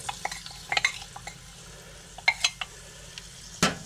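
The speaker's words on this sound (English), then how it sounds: "Then I'll add the beans." Cooked black beans are stirred into a pan of onions frying until translucent, giving soft sizzling under scattered scrapes and clinks of a utensil, close and fairly quiet, with no voices.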